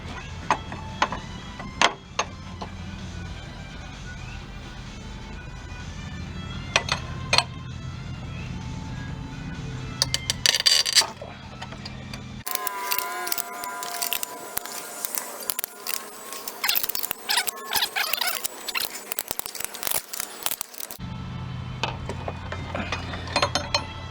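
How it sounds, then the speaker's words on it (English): A puller is cranked to force the pulley off a 2007 Ford Taurus power steering pump, giving intermittent metallic clicks, ratcheting and scraping bursts with pauses between turns, close and moderately loud. "as you crank this one out, if this one's not moving, it'll pull the pulley off"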